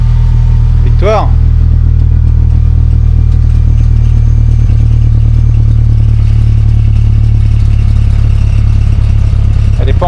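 Engine running steadily after being repaired, a loud low idle that fills the whole stretch, with a brief voice near the start.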